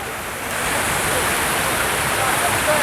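The fountains in Trafalgar Square, London splash as a dense, steady wash of falling water that swells slightly after the first moment and stays loud throughout.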